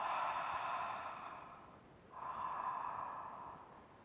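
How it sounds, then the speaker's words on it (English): Ocean breath, a throat-constricted yogic breathing, sounds as two long, soft, hissing breaths close up, one in and one out, each lasting about two seconds, with no talking. "And then inhaling, creating that same ocean-like sound."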